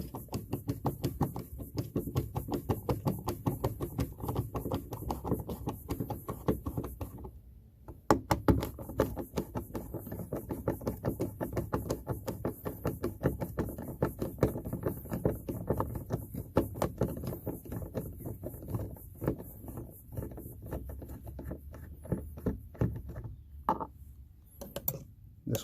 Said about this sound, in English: I just have a standard screwdriver adapted with a Torx.